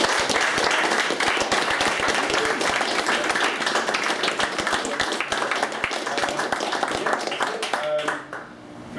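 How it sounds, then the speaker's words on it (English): A pub gathering after a gaming event breaks into loud, sustained applause, crisp individual claps packed densely for several seconds before tapering off near the end, with some voices underneath. "if we can get a massive round of applause for Chris and Craig"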